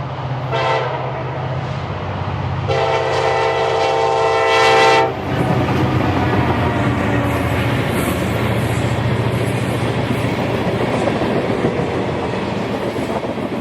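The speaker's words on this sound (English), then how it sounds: "The two locomotives on Q613 this morning are a novelty, two of CSX's new SD40-3s." A CSX freight train, Q613, led by two rebuilt SD40-3 diesel locomotives, sounds a loud horn blast, then rumbles past with steady clattering wagons that continue long after the horn fades.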